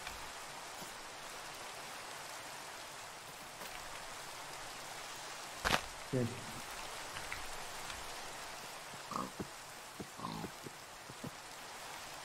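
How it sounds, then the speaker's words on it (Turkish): Steady rain in Minecraft, a soft even hiss running throughout, with a single spoken word and a few short grunting sounds in the second half. "Ay yağmur yağıyor."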